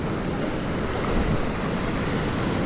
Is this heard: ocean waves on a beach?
yes